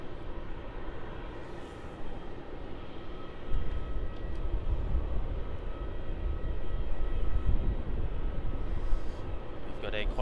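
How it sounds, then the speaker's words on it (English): A Qantas Boeing 737 jet departs on runway 34 at Melbourne Airport, its engine roar building to a broad, steady rumble that swells and holds for several seconds. "Got a Qantas 737 departure here on runway 34."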